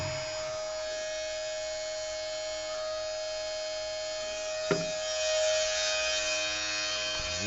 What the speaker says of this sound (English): Let this pump a while and then get down there and fix this washer drain that's leaking.